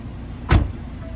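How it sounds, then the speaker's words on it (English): A single short whir of a 2020 BMW 430i power window moving briefly in a quiet interior. "And all 4 windows are fully automatic."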